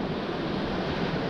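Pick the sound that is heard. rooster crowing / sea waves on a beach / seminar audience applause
sea waves on a beach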